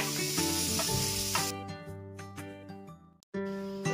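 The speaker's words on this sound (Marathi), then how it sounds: "कांदा एकदम मंद आचेवरती शिजू द्यायचे आपल्याला लाल होईपर्यंत." Onions frying slowly in a pan over a low flame, a loud steady sizzle at first that thins out after a second or so beneath sustained tonal sounds, with a brief dropout near the end.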